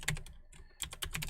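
Computer keyboard being typed on while entering a password: a quick run of light clicking keystrokes, a brief pause, then another rapid burst, close and fairly quiet.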